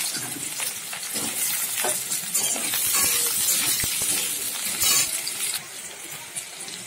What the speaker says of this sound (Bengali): তেলটা গরম হয়ে গেছে, আমি আলুটা দিয়ে দিলাম।